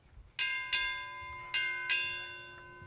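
Four bright metallic bell strikes rung in two quick pairs during a US Navy change of command ceremony for the Seabees, each tone ringing out clearly and decaying over a quiet background.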